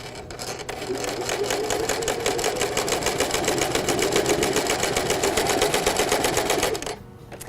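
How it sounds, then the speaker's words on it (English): A sewing machine runs a straight stitch at a 2.5 millimetre stitch length, with a steady rapid mechanical whirr and clatter, close and constant for about seven seconds before stopping abruptly. "I'm just sewing a straight stitch."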